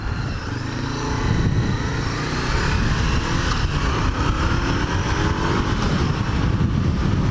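A Honda CB500F naked motorcycle on a summer ride, its engine droning steadily and growing louder as it accelerates, with heavy wind rush throughout and no talking.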